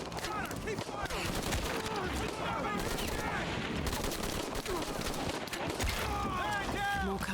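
Sustained gunfire in the video game Shadow of the Tomb Raider, a rapid, dense rattle of shots running throughout, mixed with shouted voices and other combat noise.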